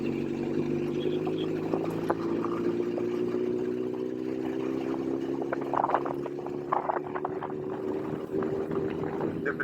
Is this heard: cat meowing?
no